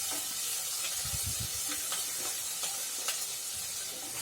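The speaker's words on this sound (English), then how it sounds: "So let our garlic paste cook properly." Garlic paste sizzles in melted butter, a steady close hiss broken by a few stirring scrapes and taps of a spoon, with no talking.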